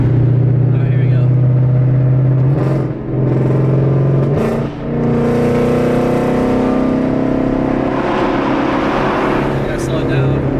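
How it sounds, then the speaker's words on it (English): A car engine idles and revs steadily while its tires are warmed up, with a strong low drone that briefly dips twice before climbing in pitch, loud and close, with people talking over it. "Let her warm up a little bit and I'll warm up these tires first."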